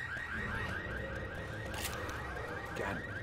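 A car alarm blares during a competitive video game match, its warbling electronic tone cycling in a steady repeating pattern, loud and continuous over a dense bed of game noise with no talking.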